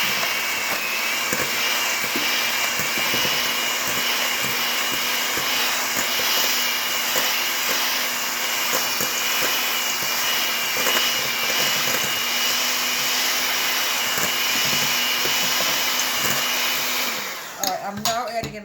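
An electric hand mixer runs steadily, creaming brown sugar for apple cookies, a continuous whirring motor hum that holds for about seventeen seconds before cutting off near the end.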